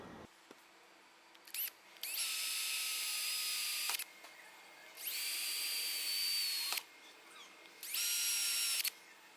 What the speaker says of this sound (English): you want to drill them out with just like a 1/8 drill bit to start with